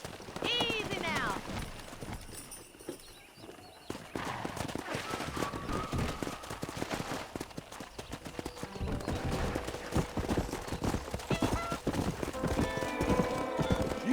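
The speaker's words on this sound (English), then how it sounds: "Let's see if we can't wrangle some horses." In Red Dead Redemption, hooves clip-clop steadily while a horse whinnies near the start, with voices talking over the trotting.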